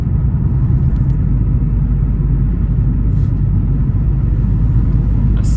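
Abarth 595 Turismo engine drones steadily while climbing a hill with the window down, a close, constant low rumble with slight turbo build and no clear revving peaks.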